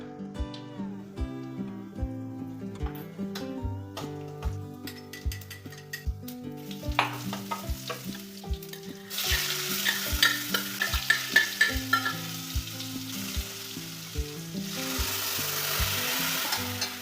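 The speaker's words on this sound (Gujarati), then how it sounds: "આજે મેં ખાલી સિમ્પલ મસાલા કરીને થોડાક ડુંગળી ટમેટા નાખીને જ વઘારી દીધું છે।" Onions and tomatoes fry with spices for a tempering while a spoon stirs them, giving a rhythmic scraping over background music; the sizzle grows louder and fuller in the second half.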